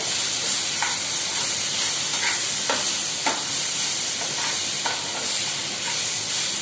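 Chicken keema mince is stirred in a hot frying pan over a constant sizzle. A spoon scrapes and clicks against the pan now and then, and no one speaks.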